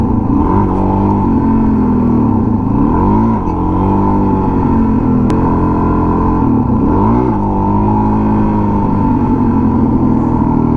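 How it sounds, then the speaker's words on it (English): Motorcycle engine held at high revs while a rider builds up to a wheelie, a loud continuous drone with wavering pitch that dips and climbs again twice, running steadily throughout without speech. "I just need to wait a little bit longer and let the revs get a little bit higher"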